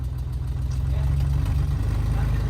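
An old Volkswagen Beetle engine runs unevenly with a faulty coil pack, a low, throbbing idle with a loose, lumpy rhythm that stays close and steady throughout.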